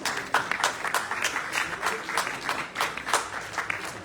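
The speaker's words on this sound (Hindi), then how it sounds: "please give a round of applause" An audience gives a round of applause at a stage play performance, a dense, steady clapping that holds at moderate loudness for a few seconds.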